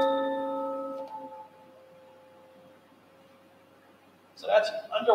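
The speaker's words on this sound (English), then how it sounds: "So that's underwater chimes." A struck metal chime lowered into a bucket of water rings with a steady tone that lingers and fades, the sound standing alone until a voice begins talking near the end.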